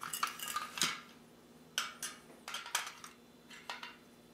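A portable butane stove's burner unit being clipped into its stove stand, giving a close, quiet run of light metallic clicks and clinks in separate bursts with no talking.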